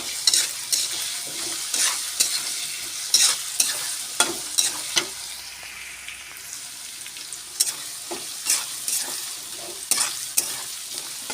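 Potatoes frying with garlic-ginger paste in a pan, a continuous loud sizzle broken by repeated sharp scraping strokes of a spatula, close and with no voice over it.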